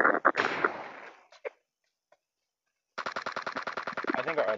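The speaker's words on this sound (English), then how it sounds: "We're getting shot at." Bursts of gunfire in the PUBG Mobile zombie mode: a few loud shots, about a second and a half of near silence, then a rapid steady machine-gun-like volley of close shots to the end.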